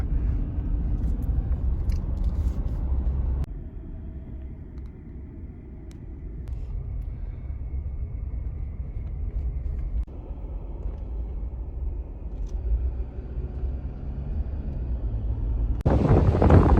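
Strong wind on a mountain top buffets the microphone in a steady low roar and rumble, shifting in strength but never letting up across the whole stretch.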